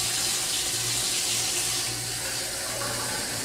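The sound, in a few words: tap water running into a glass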